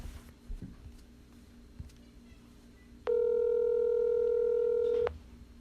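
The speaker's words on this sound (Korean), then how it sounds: "다시 한번 전화 연결해볼게요" A telephone call placed in Korea connects, and after a quiet stretch of faint background noise a single steady ringback tone sounds clearly for about two seconds, then cuts off abruptly.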